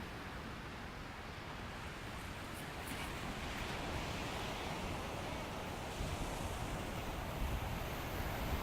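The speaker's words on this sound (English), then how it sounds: "Let's take a look at the waves here." Ocean surf at Venice Beach, California, rolling in as a steady, loud broadband wash with wind noise on the microphone, swelling slightly toward the end, with no voices.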